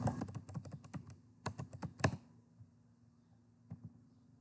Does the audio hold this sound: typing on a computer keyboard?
yes